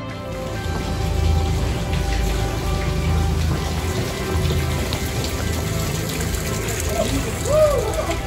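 Water pours down as rain in a steady, loud, continuous hiss that lasts throughout, with a low hum underneath.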